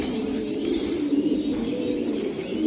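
Young racing pigeons from a club loft give low, murmuring coos close by, steady and unbroken for a few seconds.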